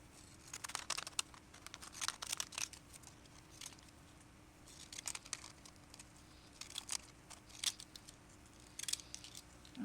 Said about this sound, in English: And I'm going to cut it out with these texturing scissors.